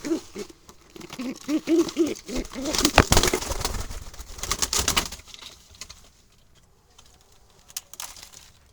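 Wild Jalali pigeons, some roosting in a tree, give soft repeated cooing pulses in the first few seconds, then a burst of rustling clatter before the scene turns quiet with faint scattered noises.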